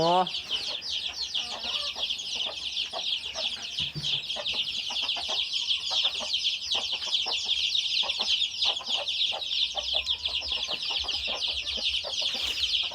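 Chickens clucking at morning feeding time on a rural farm, a steady, close chorus of overlapping clucks and chatter that carries on throughout, with occasional louder calls.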